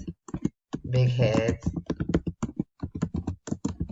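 Typing on a computer keyboard in Microsoft Word, a quick run of close, crisp key clicks in an uneven rhythm, with a voice talking briefly over them.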